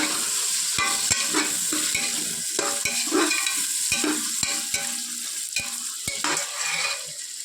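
Tomatoes and green chillies for a pressure-cooker veg biryani fry in a pan with a constant sizzle, punctuated by sharp clicks and scrapes of a spoon stirring.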